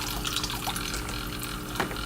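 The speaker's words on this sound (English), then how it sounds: "Let's put the siphon down in here, and then it'll take the water and put out there." Water runs through an aquarium siphon as a tank is drained, a continuous close gurgling trickle with small splashes and one brief louder slosh near the end, without talk.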